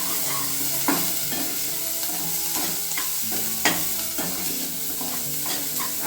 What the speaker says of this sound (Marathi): कांदा लवकर भाजण्यासाठी मी यात थोडंसं मीठ टाकून घेते